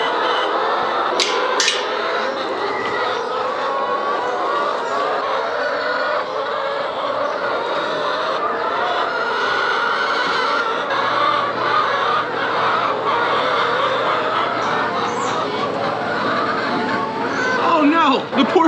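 Chickens cluck and a rooster crows briefly among farm animals, steady poultry chatter running throughout with a person talking nearby over it.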